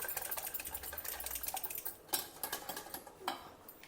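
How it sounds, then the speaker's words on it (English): Quick, light clinking and scraping of a utensil against a bowl, busily whisking a paste with water, with occasional sharper knocks, fairly quiet and close. "Now whisk all this well together."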